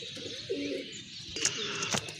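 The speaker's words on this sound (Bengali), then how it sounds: "মাশাআল্লাহ, খুবই সুন্দর বিগ সাইজের এক জোড়া কবুতর।" A pair of large pigeons coos in a low, soft rolling burst, followed by a few sharper chirps and clicks nearby. No one speaks.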